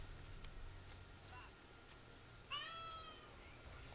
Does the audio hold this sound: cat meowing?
yes